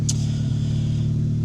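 Car engine fitted with an ARM Motorsport 4.5 downpipe, captured up close from inside the engine bay, gives a loud, steady low drone with a brief hiss at the start.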